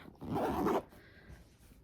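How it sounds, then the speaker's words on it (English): A zipper pocket on the interior of a purse being unzipped in one quick, close pull lasting about half a second, followed by quiet handling. "Here you have a zipper pocket. I'm going to unzip that."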